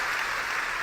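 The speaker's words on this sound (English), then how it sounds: "give them a round of applause" Audience applause at a panel event with actresses and a host on stage, a short, steady burst of dense clapping close by with no voices over it.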